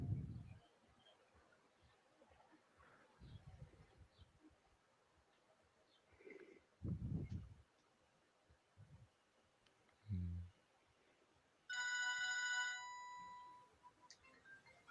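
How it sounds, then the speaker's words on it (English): A phone rings with a bright, bell-like electronic tone, a single sustained burst that starts abruptly and fades, heard in a quiet room with scattered faint knocks and thumps beforehand. "I hear a bell. That would be my phone."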